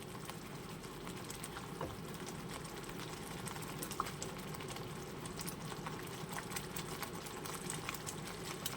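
Tomato chutney simmers in a pan, giving a faint, steady bubbling hiss that runs evenly throughout with no voices over it.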